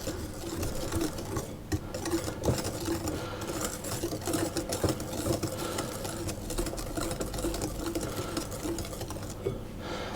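Electric mixer beating flour into a spiced cake batter with apple sauce, a steady close whirring drone with faint rattling, no talking.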